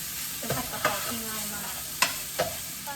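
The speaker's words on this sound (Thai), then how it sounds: "เดี๋ยวเราก็จะใส่กระเทียมกับพริกลงไปเลย เพื่อให้มันแบบเหมือนคลุกคลุกเขาให้เข้ากัน" Garlic and chili being stir-fried in a pan for a Thai dish: a continuous sizzle broken by several sharp clatters of the utensil stirring and tossing, close and fairly loud, with no voices.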